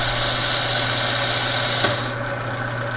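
A pickup coil winding machine hums steadily, then a sharp click cuts off its whirring high tones while a low hum lingers briefly.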